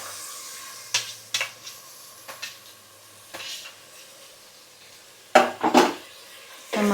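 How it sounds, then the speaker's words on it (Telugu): Tomatoes fry in a pan for a tomato and broad bean curry, with a soft sizzle under scattered sharp clanks and scrapes of a utensil against the pan, ending in a cluster of louder metallic knocks. "టమాటాలు కూడా వేసుకొని బాగా ఫ్రై చేసుకోవాలి కదా మమ్మీ?"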